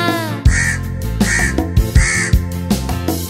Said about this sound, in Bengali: ডালে বসে কাক ডাকে কা কা কা